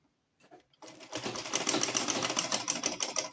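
A sewing machine stitches round the edge of a butterfly (bubu) dress with a keyhole, starting after a few faint clicks. It then runs in a steady, fast, loud rhythmic whir close by, with no talking.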